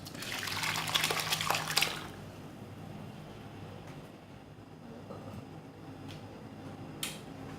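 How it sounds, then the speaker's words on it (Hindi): Whey water drains and splashes from curdled milk chhena being strained, a busy close trickling patter for the first couple of seconds that then fades to quiet rustling with a faint tap near the end. "इसको अच्छी तरह ये पानी निकाल देंगे।"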